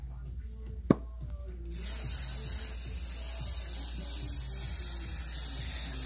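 An aerosol spray can hisses in one long, steady burst onto fabric for a serged table runner, close and loud, after a brief click and some light handling noise.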